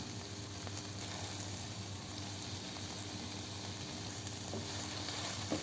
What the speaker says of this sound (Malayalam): ഉപ്പ് ചേർത്ത് കൊടുത്തിട്ട് നന്നായിട്ട് വഴറ്റുക